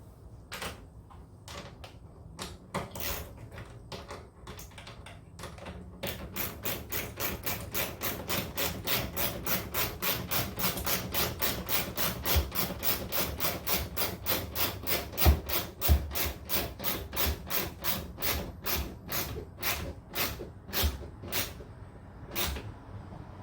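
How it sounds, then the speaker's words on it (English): A power drill or driver whirs in rapid, continuous bursts as a screw drives a front splitter onto a car bumper, with grinding and rattling, close up and fairly loud. "So I'm gonna screw this side down."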